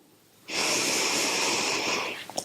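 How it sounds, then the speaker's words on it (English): One slow, deep inhale through the nose during a guided breathing exercise, a steady close airy hiss lasting about a second and a half before a soft release. "What we're going to do is breathe in for 3"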